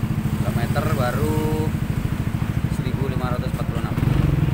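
A new 2020 Yamaha NMAX scooter fitted with an F2 Racing CNC titanium long exhaust rumbles steadily at close range in a deep, pulsing idle, with people talking over it.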